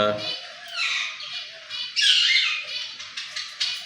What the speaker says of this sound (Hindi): आज हमारी मैना आपके साथ बातें करेगी